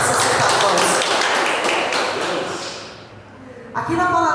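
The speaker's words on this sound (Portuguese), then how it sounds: "Uma salva de palmas para Jesus" A church congregation breaks into a loud round of applause, dense clapping that thins and fades out over a few seconds before a voice resumes.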